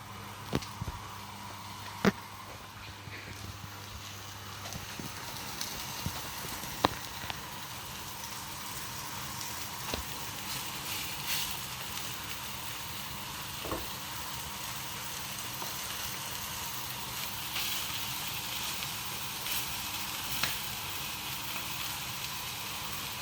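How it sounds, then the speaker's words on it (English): Floured pork roulades browning in an oiled pan give a steady, soft sizzle that runs throughout, with occasional light pops and clicks over the continuous frying hiss and no voices. "Pan with some oil. And you're just literally going to brown them on each side."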